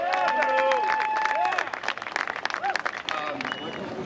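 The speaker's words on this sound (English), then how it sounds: "give a round of applause to our homeboy" Applause and clapping from an audience at a basketball peace tournament event honoring a Drew League player, dense crowd noise with speech over it, then tapering into scattered claps and chatter.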